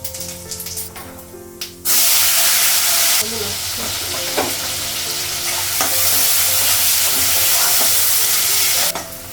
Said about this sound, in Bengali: পেঁয়াজটা বাগান পেঁয়াজটা ভাজা হয়েছে